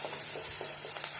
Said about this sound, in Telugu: బాగా వేయించుకోవాలి.